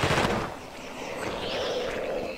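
A gun fires in The Thing on PC, a loud burst of rapid shots at the start that fades into a steady rushing wash of noise.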